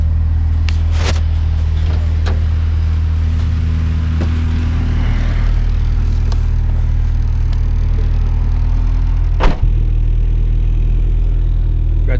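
A right-hand-drive Honda Civic drives along with a steady low engine drone and road rumble heard from inside the cabin, broken by a few sharp knocks and clicks.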